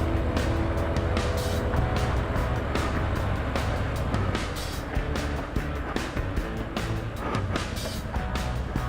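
A 2019 Harley-Davidson FXDR motorcycle being ridden, its V-twin engine rumbling steadily and loud close by, with wind rush and throttle swells over nearly nine seconds and no talk.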